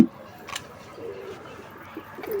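Soft, low coos of pigeons repeat a few times close by over a quiet background hum.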